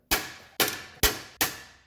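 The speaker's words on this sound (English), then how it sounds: "Jam the pry bar here on this section of the actual CV shaft and smash away" Four loud metallic clangs of a pry bar striking the CV shaft on a 2006 Subaru Outback during front axle removal, evenly spaced about half a second apart, close and ringing with quick decays.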